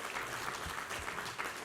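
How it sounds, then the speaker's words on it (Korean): A church congregation applauds during a Sunday worship service, giving steady, even clapping that sounds soft and slightly distant, with no speech. "우리 하나님께 감사와 영광의 박수를 올려드리겠습니다."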